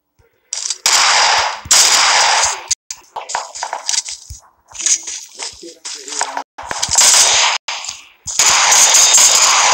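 Gunfire in the video game PUBG Mobile comes as loud, crisp automatic bursts, repeated in uneven volleys with short silent gaps between them.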